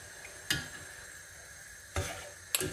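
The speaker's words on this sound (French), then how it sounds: "Je mélange de temps en temps." Homemade vanilla extract heated over very low heat is stirred in a pot, with three brief utensil scrapes and clinks against a quiet background of faint sizzling.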